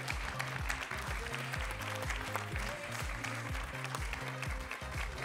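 An audience applauds at the Grand Prix Syntec Conseil 2024 award ceremony, a dense, continuous clapping that runs the whole time over a pulsing, rhythmic music track.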